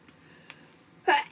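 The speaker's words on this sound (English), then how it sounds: "I'm going to sneeze here." After a quiet moment with faint breaths, a single sharp sneeze bursts out close by.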